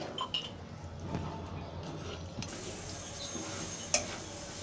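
A thickening chicken bun filling of cornflour and milk bubbles quietly in a pan as a spoon stirs it, with soft scraping and a couple of sharp clinks against the pan.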